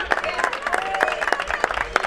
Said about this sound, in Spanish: Os van a dar un aplauso porque se lo merecen.